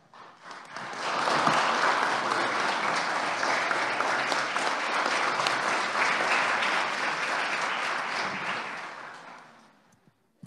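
A round of applause fills the Senate chamber, steady and full-bodied clapping from many hands that swells quickly, holds for several seconds, then tapers off.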